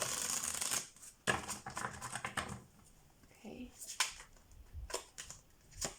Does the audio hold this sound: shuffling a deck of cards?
yes